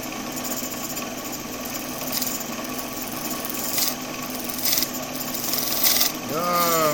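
Spindle gouge cutting wood on a lathe: a steady, dense scraping and hiss with a low machine hum, some brief louder bursts, and a rising whine near the end as the lathe speed changes.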